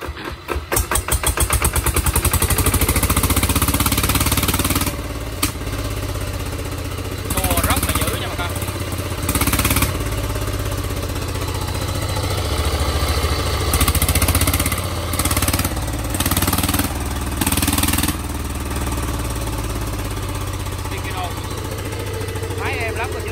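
A Vikyno EV2600 25 hp engine cranks to life and runs loud and close, with a rattling idle broken by several revving surges, while people talk over it.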